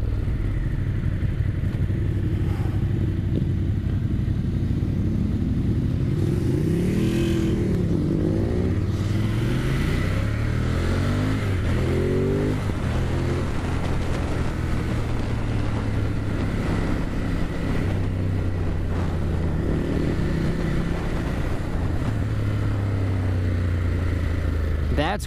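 A Ducati Monster 1200S motorcycle engine revs up and down, with rising and falling pitch sweeps from throttle blips on downshifts through an auto blipper, heard steadily over wind and road noise.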